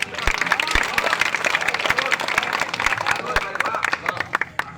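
Audience clapping and cheering at a kavi sammelan, a Hindi poetry gathering held during the Jhanda Mela. The applause is steady and dense across the clip, with crowd voices mixed in and sharp individual claps standing out.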